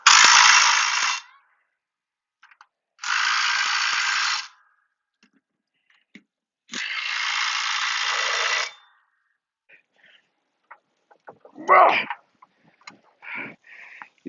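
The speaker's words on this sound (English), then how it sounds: "I use a wrench on it to make sure they're tight." A ratchet wrench tightens bolts on a mulch kit fitted to the 54-inch mower deck of a John Deere compact tractor: three bursts of rapid clicking, close and crisp, then quiet handling sounds and small knocks.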